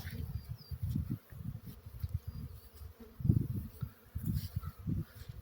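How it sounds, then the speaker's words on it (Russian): A honeybee carrying pollen buzzes close by outdoors on a mild spring day, its low hum rising and fading in irregular bursts as it moves about. "Пчелка гудит, тащит пыльцу уже вовсю."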